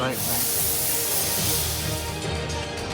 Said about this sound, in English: you can hear the sizzle in the pan